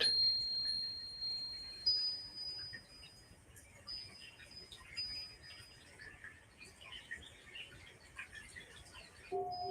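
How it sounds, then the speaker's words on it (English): Faint, distant birds chirp in high thin calls in a Japanese garden against a quiet outdoor hush with soft insect-like buzzing. "the Japanese garden, the birds, the waterfall"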